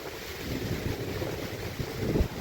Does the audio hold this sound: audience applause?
no